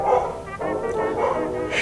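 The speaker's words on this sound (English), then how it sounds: "Shut up, dog." A dog barks and yips repeatedly at close range in a steady run of short, loud calls with a whiny edge, filling the whole moment indoors during an unboxing.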